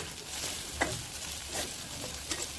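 Prawns frying in a pan, a quiet steady sizzle with occasional small pops and stirring scrapes, close and alone.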